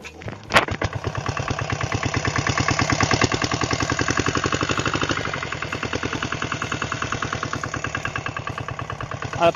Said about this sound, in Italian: Questo è un motore VM diesel